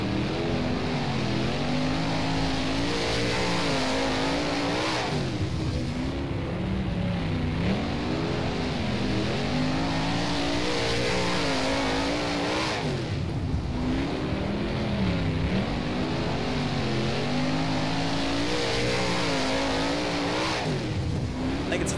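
A 410 sprint car engine howls around Lincoln Speedway in the rFactor racing game, a loud, steady high-revving drone that dips and climbs rhythmically with each corner, lap after lap without pause.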